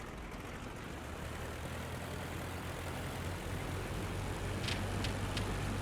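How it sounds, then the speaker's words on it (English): A damaged aircraft engine in the Flying Circus flight game runs as a rough, continuous low drone with a dense noisy roar, steady and close, with a few faint clicks near the end. "I think I might have just damaged the engine already by advancing the throttle too quickly."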